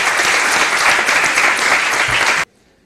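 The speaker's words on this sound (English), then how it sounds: "let's give a final round of applause to our panel" Audience applause for a panel at a conference session on migration as adaptation and government planning; dense, steady clapping fills the room for over two seconds, then cuts off abruptly into near silence.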